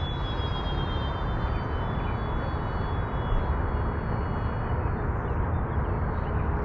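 An FMS 1400mm F4U Corsair RC plane climbs straight up, its electric motor giving a steady, loud whining drone with a high tonal whine that gradually falls in pitch over a broad rushing noise.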